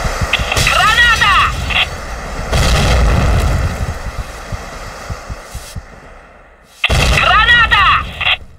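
Grenade blasts in a video game mission, several loud booming bursts with rumbling tails spread across the moment, the first around a second in, another near three seconds and a final one late, with a voice shouting over them.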